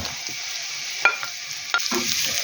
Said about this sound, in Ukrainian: Тепер хай просмажиться ще трішки тут морква.